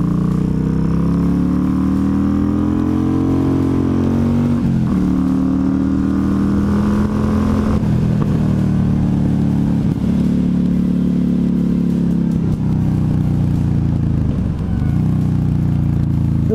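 A 2015 Yamaha Stryker cruiser motorcycle engine runs loud and close while riding, its pitch rising and falling through repeated revs and gear changes with constant wind noise.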